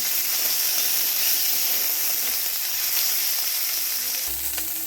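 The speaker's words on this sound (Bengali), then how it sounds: "কড়াইতে যে তেল তেলের মধ্যে আমি একটু ভেজে নেবো ভালো করে ভেজে নিলে আমার বাড়তে সুবিধা হবে" Dried loitta fish frying in hot oil in a wok, a loud, steady sizzle and hiss running continuously from start to finish with no talk over it.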